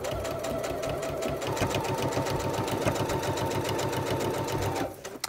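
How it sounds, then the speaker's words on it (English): A Passport 3.0 sewing machine with a walking foot stitches through layered pillow fabric in a fast, steady close mechanical whir and needle patter, stopping abruptly near the end. "So make sure those flaps are nice and flat down, and I'm going to start sewing."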